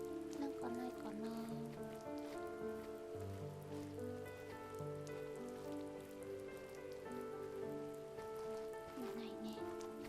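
Steady rain falls throughout as a constant hiss, with sustained musical tones playing underneath.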